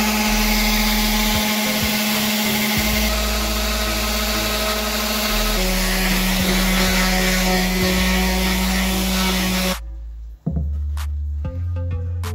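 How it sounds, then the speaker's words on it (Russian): A rotary sander runs loud and steady against a wooden snowboard training board, a continuous whirring drone with a shift in pitch midway, then cuts off abruptly near the end, leaving quiet hum. "Но чтобы она была гладенькая, красивая, ее еще нужно зашлифовать вот такой роторной шлифмашинкой."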